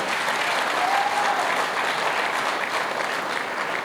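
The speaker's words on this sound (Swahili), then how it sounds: "Tuwapige makofi." An audience at a football club's stadium development announcement applauds, a dense, steady burst of clapping from a crowd that carries evenly for about four seconds with no voices over it.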